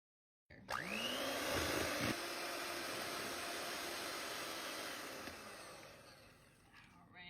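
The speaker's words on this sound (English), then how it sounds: "Looks like we're finished with our mixer for right now." Electric mixer whirring through pineapple cheesecake batter, starting abruptly with a rising spin-up whine, then a steady loud motor drone that eases slightly before fading near the end, no speech.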